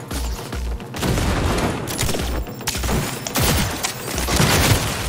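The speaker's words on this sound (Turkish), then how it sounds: "Alın size bir bomba." Gunfire crackles in dense bursts through a Cyberpunk 2077 firefight, with a loud bomb blast booming low and heavy amid the shooting, the chaos continuing near and loud throughout.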